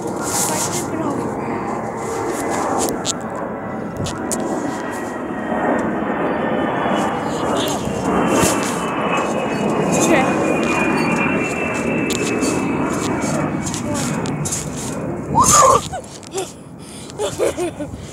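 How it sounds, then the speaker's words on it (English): Airplane engine roar fills the cabin, a loud steady drone throughout with a rising whine, while a passenger exclaims over it as the aircraft tips sideways. "Guys, this airplane is sideways."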